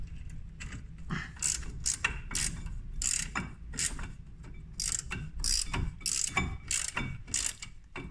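A 15 mm ratchet wrench tightens brake bolts on a 2002 Opel Corsa C during a brake disc and pad change, giving close, quiet bursts of rapid metallic clicking in an uneven rhythm.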